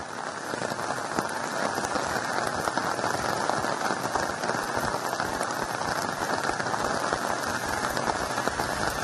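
Heavy rain across Dakshina Kannada district, a dense, even roar of downpour on surfaces, loud and unbroken for the whole stretch with no voices.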